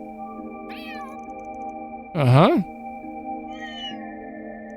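Cats meow in the video game Trails Through Daybreak II: one loud, drawn-out meow in the middle, with softer mews before and after over steady game music. A person briefly murmurs.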